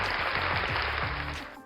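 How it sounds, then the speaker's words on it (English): An audience claps in a brief, dense wash of applause at full strength that starts to fade near the end. "Let's give another round of applause for that."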